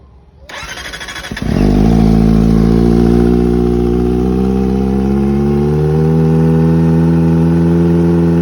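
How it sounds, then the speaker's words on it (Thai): A motorcycle fitted with a Daiwo 99 aftermarket exhaust, baffle removed, cranks and fires up, then settles into a loud, deep idle from the open exhaust, with a slight rise in revs. "นี่ก็คือเสียงจากท่อไดโว99"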